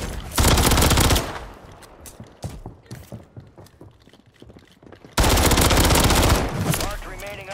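Rapid automatic gunfire in the shooter Warzone 3: loud machine-gun bursts open and close the stretch, with scattered sharper single shots and clatter between them.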